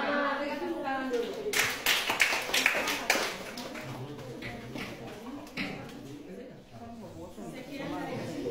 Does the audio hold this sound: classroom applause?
yes